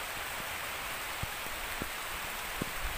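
Steady rain falls on arrival at Darussalam, a dense continuous hiss with a few sharper drops tapping nearby surfaces, moderately loud and alone.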